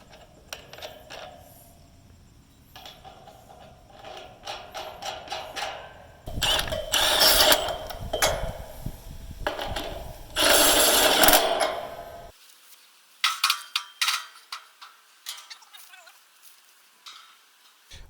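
Metal flat washers, lock washers and nuts handled while building a DIY off-grid solar array, heard as scattered clinks and jingles in irregular bursts with a few louder rattling stretches, then sparse taps near the end.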